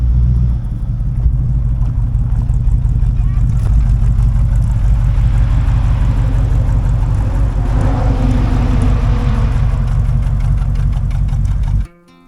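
A 1947 Mercury Eight Coupe engine idles steadily and loudly up close, a deep continuous rumble with a slight uneven knock, running alone before cutting off abruptly at the end.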